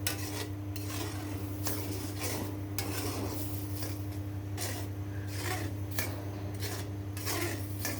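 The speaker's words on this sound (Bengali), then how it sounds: "কষিয়ে তারপর হাফ সিদ্ধ করা ডালটা দিয়েও কিছুক্ষণ কষাবো" Half-boiled lentils sautéed in a pan, a spoon scraping the pan in repeated strokes over a steady cooking hum and faint sizzle, with no talking.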